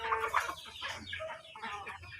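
Chickens in a coop cluck and call in short, busy bursts, close and fairly clear, with no voices over them.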